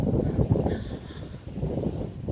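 Gusty wind buffets the microphone with a low, rumbling roar that swells and eases, heard close and alone, on a sunny day in West Hollywood, Los Angeles.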